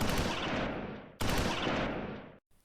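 Gunfire from the World War II video game Close Combat 4, set in the Battle of the Bulge: two loud, dense bursts of rattling fire, each fading out before the next begins, with a brief quiet gap at the end.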